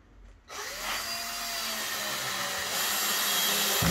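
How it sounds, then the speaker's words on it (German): Power screwdriver drives a screw into a kitchen countertop, starting abruptly after a quiet moment and whirring steadily close by, rising slightly in pitch near the end, with no talk. "Die Schraube muss leicht versenkt sein."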